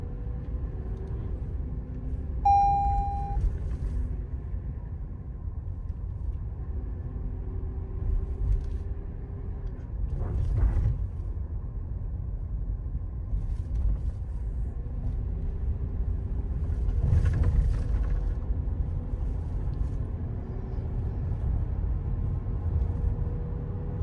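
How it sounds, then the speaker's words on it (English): Cabin noise inside a moving 2021 Toyota 4Runner, a low, steady engine and road drone with faint transmission shifts and a few brief louder swells, quiet throughout and with no talking. "you can hear the engine and also the transmission when it shifts"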